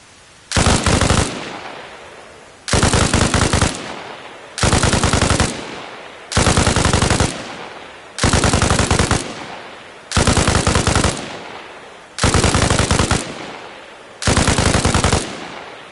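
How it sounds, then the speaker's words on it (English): Bipod-mounted machine gun fired in Arma Reforger, eight loud, close bursts of rapid automatic fire, each about a second long, separated by short pauses with ringing decay, no talking. "Bipod is down. I cannot mount. We're going to do some recon by fire."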